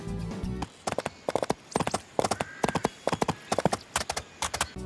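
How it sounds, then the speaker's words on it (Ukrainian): Horse hooves clip-clop in the video game Barbie Horse Adventures, with quick clusters of sharp, close hoofbeats in a rolling gait and a faint whinny-like tone in the background. "Беремо власного коня і вирушаємо в таємничу їзду."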